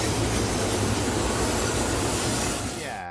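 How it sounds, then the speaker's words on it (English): A very long cargo train rolls past close by, a loud, steady rush of wheels and rail rumble filling the whole stretch before easing off at the end. "The length of the cargo trains is just mind-blowing."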